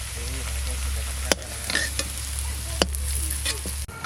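Potatoes sizzle in hot oil for a mutton biryani, stirred with a spatula that clacks sharply against the pan a few times over the constant frying hiss.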